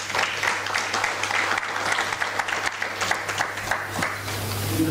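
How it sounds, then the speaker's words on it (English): Conference audience applauding steadily for about five seconds, a dense wash of clapping with a faint low hum running underneath. "Let's give a round of applause for the Deputy President of SASSA."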